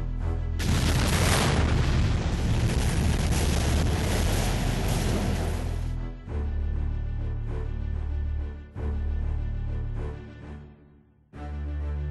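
A nuclear ICBM detonates in the strategy game Supremacy 2020 with a loud, sustained roaring boom lasting several seconds. It gives way to a lower rumbling tail that dips and swells before fading out.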